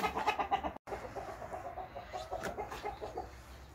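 Chickens clucking inside a chicken coop, a busy close flurry of short clucks and low murmurs with a brief sharp gap near the start, no talking.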